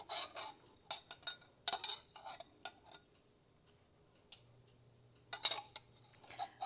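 A knife chops sun-dried tomatoes on a board for a one-pan pasta, a quick run of light, close taps in short bursts, pausing and then picking up again, quiet and with no talking.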